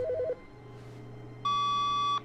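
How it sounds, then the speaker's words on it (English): A phone rings in The Stanley Parable: Ultra Deluxe, with a few quick electronic beeps and then a steady, loud tonal ring held for nearly a second over a faint hum. "Why's a phone ring?"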